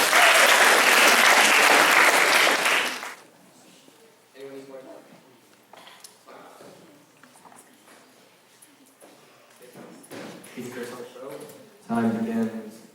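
A burst of audience applause opens a speech and debate showcase round, dense clapping for about three seconds that stops abruptly, followed by a speaker talking in a quieter room.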